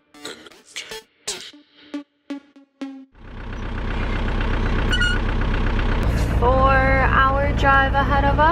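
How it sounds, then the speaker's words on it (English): After a few short bursts of throat clearing and coughing, a bus engine starts up and runs loud and rumbling as the vehicle rolls along a rough, bumpy track, with voices chatting over it near the end. "I feel like I'm four-wheel driving this bus"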